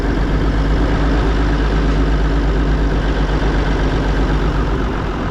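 An old G900 diesel tractor idles steadily after sitting unused for years, a loud, close, even low rumble with a constant throb and no talking over it.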